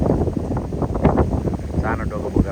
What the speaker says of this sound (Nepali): हावा मात्र चलिरहेको छ।